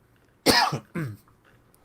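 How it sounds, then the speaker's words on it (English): Two short, sharp coughs in quick succession, close and fairly loud, followed by quiet. "A little coughing fit."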